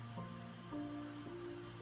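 Soft, steady rain hiss for a meditation, faint and continuous beneath gentle sustained musical tones.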